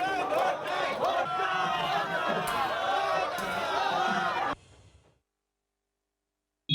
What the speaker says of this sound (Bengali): আজ শুনতে হয়েছে গো ব্যাক স্লোগান।